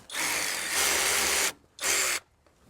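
Cordless ratchet running on a Dewalt battery while loosening a bolt during an automotive repair: two close, loud whirring bursts, the first about one and a half seconds long and the second shorter after a brief pause.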